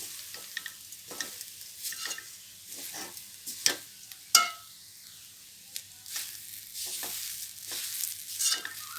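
Ground coconut, salt and red chilli powder stirred in a pan over low heat, with soft repeated scraping strokes of a spoon against the pan and a faint sizzle, fairly quiet with a few sharper knocks.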